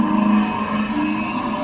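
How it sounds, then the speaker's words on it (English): Recorded World War II airplanes droning in flight as sound effects for a Keeney Air Raider arcade game, a steady, dense engine hum with faint pulsing, continuous and moderately loud throughout. "Right now, what you're hearing are real World War II airplanes flying"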